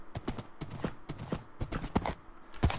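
Horse hooves clip-clop steadily as someone rides a horse in Minecraft. The quick, even footfalls are close and moderately quiet, with no talking.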